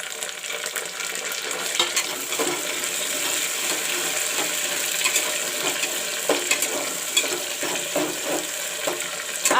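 Chopped tomato frying with golden-brown onions in a pan for palak and chana dal, a continuous crackling sizzle punctuated by stirring scrapes and clatters.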